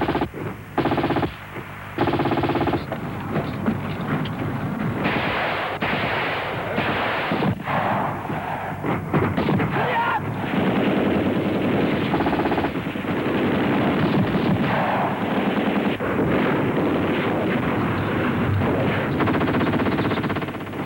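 A Soviet-style infantry attack with BTR-60PB armored personnel carriers and tanks: dense bursts of machine-gun fire and heavy booming cannon and artillery shots overlap continuously, loud and chaotic, with no speech.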